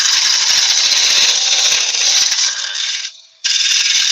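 A 12mm carbide cutter hollows and trues the inside of a wooden vase spinning on a lathe, giving a loud, continuous hissing, rattling cut that drops out briefly before resuming.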